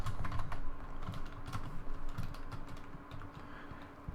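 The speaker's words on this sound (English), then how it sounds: "we're going to type in Sagan" Typing on a computer keyboard while entering Ruby code: a steady run of close, crisp key clicks at an uneven pace, with no talk.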